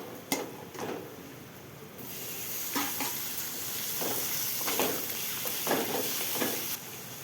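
Chopped tomatoes and onions frying with salt in a pan on the stove, a steady close sizzle and hiss with occasional stirring scrapes and clatter.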